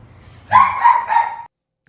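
A rescue dog barks once close by, a single drawn-out bark of about a second, loud in a quiet room with no talking.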